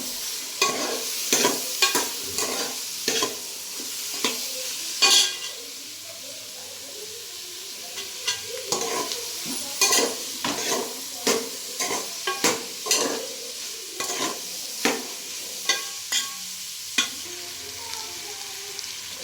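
Chicken being stirred and fried in a pan for fried rice, with repeated sharp scraping strokes of the utensil over a steady sizzling hiss, close and fairly loud, no talking.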